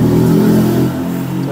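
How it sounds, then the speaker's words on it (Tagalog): A Yamaha Aerox 155 scooter engine that will not start being cranked, a loud, close, steady droning churn that drops slightly in level partway through, with a voice speaking over it. "Kaya ba itong paikutin yung makina?"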